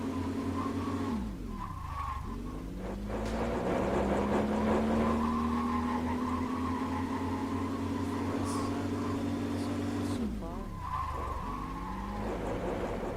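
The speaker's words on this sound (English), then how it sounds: "Brake a little bit late there." A mid-1980s sports car on a test track winds up through a long rising engine pull, then drops sharply as the driver brakes late and downshifts, loud and close-miked, with engine whine repeating before and after.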